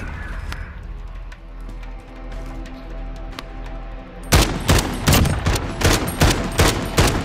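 Gunfire in Call of Duty: Modern Warfare, starting with sparse sharp shots and then breaking into a rapid, loud string of repeated bursts in the second half.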